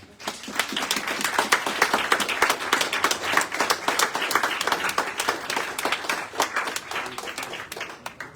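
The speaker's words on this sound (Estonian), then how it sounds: "ma arvan, et võiks olla üks hästi suur aplaus praegu" A crowd at a book launch claps in a sustained round of applause, with sharp individual claps clearly audible within the steady patter and no talking over it.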